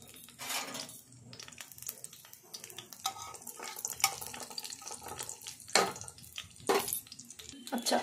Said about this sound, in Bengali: আমার ফোড়নটা ভাজা হোক।